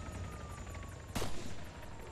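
Gunfire in the Arma 3 video game, a sharp broadband burst midway through the clip, ringing out over a steady background hum with faint rhythmic ticking, no talk.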